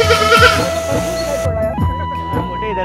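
A goat bleats loudly and close by, a few wavering cries over other nearby noise.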